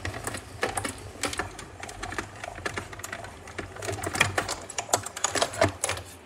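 A hand-cranked paper embossing machine is wound as paper feeds through for a stamping craft project, producing a close, steady run of rapid clicking and ratcheting that grows a little louder toward the end.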